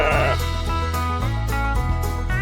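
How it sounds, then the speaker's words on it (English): A sheep bleats loudly and up close in a long wavering cry, with no other voices. "This is sheep."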